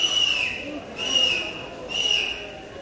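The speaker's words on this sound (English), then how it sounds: "A few whistles from the Heidelberg faithful here in the grandstand, wanting to see their 3 points made official." Football fans whistle from the grandstand at a Heidelberg United match, with three sustained shrill whistle bursts rising over a steady crowd murmur at a distance.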